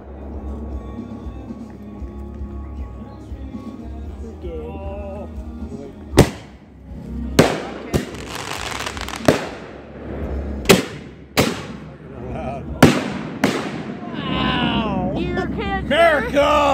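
Fourth of July fireworks fired from a set of mortar tubes, with a run of sharp booming bursts spaced a second or two apart, each followed by crackling and fizz, while people chatter and murmur nearby throughout.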